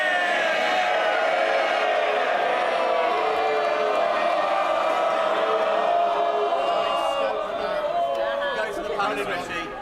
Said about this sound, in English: This is the moment for cheering.